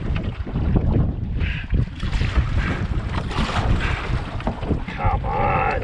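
Gusty wind buffets the microphone while someone paddles a small boat across open water on a walleye fishing trip. The roar is loud and close and shifts with the gusts, and a voice speaks briefly over it.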